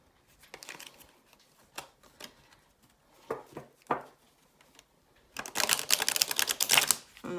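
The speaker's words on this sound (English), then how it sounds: "Let's have a little riffle." Small tarot card deck being riffle shuffled, with sparse papery flicks and snaps at first, then a dense rapid burst of fluttering card clicks near the end, close and fairly quiet.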